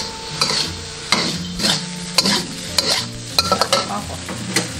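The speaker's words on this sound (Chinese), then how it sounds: "锅留少许底油，下入葱姜蒜、红椒粒炒香，开入1000料酒， 加入鱼块" Fish pieces stir-fried in a wok with a little oil, scallion, ginger, garlic, diced red pepper and cooking wine: close, steady sizzling under repeated scraping, clacking stirs about once a second.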